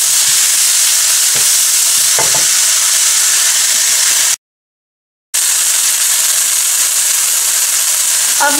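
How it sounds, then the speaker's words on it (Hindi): Bitter gourd masala stir-fries in a pan for karela gosht, a loud, steady sizzle and hiss with faint stirring clicks, cut by a brief silent gap midway and then resuming at the same level. "अब इसको 4-5 मिनट में इस तरह भूनूंगी"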